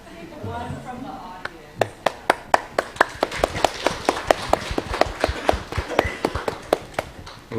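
Conference audience applause, starting as a few sharp individual claps after a brief spoken voice, then building into denser, overlapping clapping close to the microphone.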